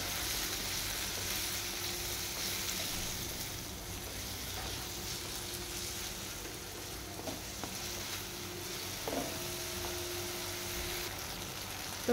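Tomatoes softening in a pan with salt and turmeric, a steady low sizzle and frying hiss running continuously, with a few light stirring clinks and scrapes over the top.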